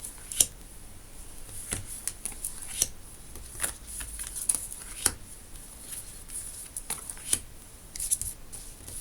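Tarot cards being shuffled and handled, a series of soft, irregular papery flicks and taps, close and fairly quiet, with no talking.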